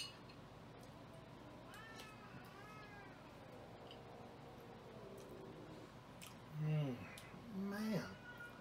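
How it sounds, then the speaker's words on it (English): Cats yowl and caterwaul with rising and falling drawn-out cries, moderately near over a steady background hum, swelling into louder overlapping howls toward the end as a fight breaks out. "sounds like we got a cat fight going to go on"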